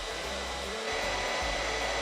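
A hair dryer running on high to shrink heat-shrink tubing, powered off-grid from a Delta EcoFlow battery station, makes a steady, close, loud rushing whoosh with a low motor hum, heard alone.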